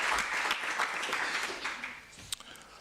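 Applause from an audience following a research presentation during a college research and innovation week, a moderately close round of clapping that fades out over a few seconds.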